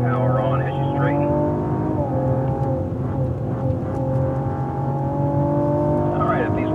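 A 2016 Cadillac ATS-V engine climbs in pitch as it accelerates hard on a race track, a loud, sustained harmonic drone with an upshift partway through and an instructor's voice heard over the engine.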